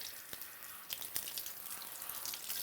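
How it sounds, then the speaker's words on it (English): Tap water runs steadily and close by while shampoo is rinsed out of a hair system at a sink, a continuous faint rushing with small splashes and no one speaking. "I'm feeling like all the shampoo is rinsed out now."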